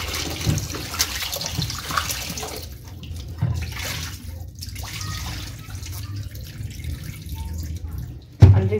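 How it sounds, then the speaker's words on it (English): Running water from a tap while raw chicken is rinsed in a kitchen, a continuous splashing rush that thins out midway, then picks up again, ending in a sharp clunk. "Drain the water, then rinse them again."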